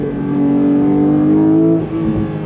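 A 2022 Porsche 911 GT3 engine revs hard toward 9,000 RPM, its pitch climbing steadily in one loud, sustained rise before dropping off at the end; no talking.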